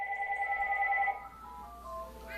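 A telephone rings indoors with an electronic two-tone chirp, loud and steady for about a second before fading into quieter tones. No one speaks.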